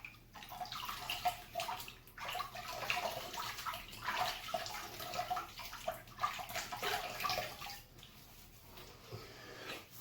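Water runs steadily from a tap, splashing and gurgling while someone wets their face before a wet shave with a bowl-lathered soap. The rushing sound is continuous and close, with no talking.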